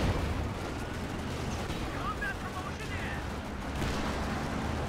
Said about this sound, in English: This is the second time we've had explosions. Massive amounts of explosions.